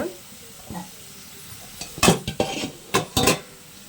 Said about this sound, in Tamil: இப்போ இதெல்லாம் சேர்த்து நல்லா பரட்டி எடுத்துருங்க